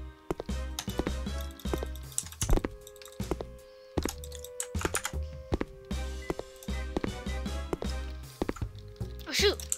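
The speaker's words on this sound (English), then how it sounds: "I was typing" Rapid, uneven clatter of computer keyboard typing in bursts with brief pauses, fairly close and loud, while a voice talks intermittently over it.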